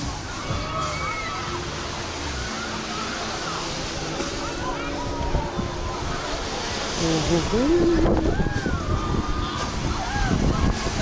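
Sea waves on Dadonghai beach in Sanya, China, a continuous close wash of surf that swells louder midway, with faint voices in the background.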